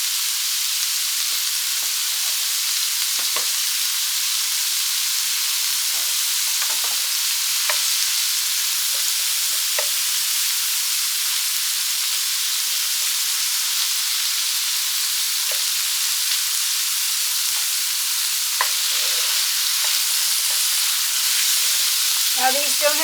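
Vegetables and smoked sausage sizzle steadily in a hot pan, a continuous bright frying hiss with occasional soft stirring clicks and spatula taps, close and even throughout with no talking.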